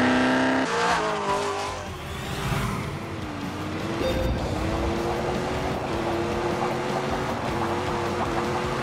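A Hennessy-tuned 1,000-horsepower Camaro in a Grand Tour racing video game roars loudly and steadily, with a rising engine whine and brief tire squeal near the start.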